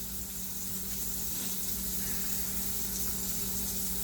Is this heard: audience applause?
no